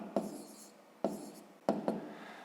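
Handwriting on paper while working a fifth-grade math exercise: three close, distinct bursts of pen or chalk strokes, each a quick scratch followed by a short trailing stroke, in a quiet room.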